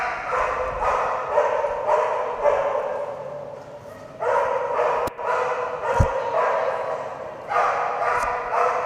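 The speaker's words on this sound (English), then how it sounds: "that will bring us to Noelle and her poodle" A poodle at a splash dog distance-jump event barks in short repeated bursts with brief pauses between them, loud and close, over faint background noise.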